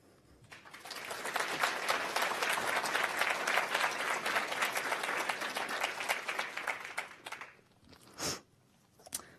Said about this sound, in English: that in and of itself deserves a round of applause